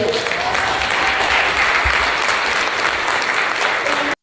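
A crowd cheering and applauding in a played recording at a political gathering, continuous dense clapping with a faint vocal murmur underneath, ending abruptly.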